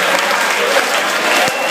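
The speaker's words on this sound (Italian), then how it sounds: "vorrei chiedere un applauso per Federico Zenit, Roberto Molinaro, Tecno" Applause at a club event: dense, steady clapping from a crowd fills a short burst, close and loud throughout.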